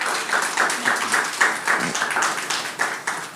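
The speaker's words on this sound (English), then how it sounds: "Let's give him another round of applause." Audience applause after a chef's presentation on soup, stock, sauces and thickening agents at a young chef culinary competition and conference in the Bahamas; steady, dense clapping fills the whole stretch at an even, fairly close level.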